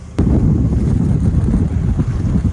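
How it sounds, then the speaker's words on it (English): Strong wind roars steadily across the microphone on a boat on the Intracoastal Waterway, a loud continuous rumble with no voices. "It's very windy, right on the nose"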